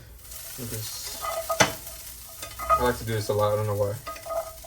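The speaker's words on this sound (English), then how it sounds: "Just let it sizzle like that." Food sizzles steadily in a frying pan as a person talks over it, with occasional stirring clinks and scrapes close by.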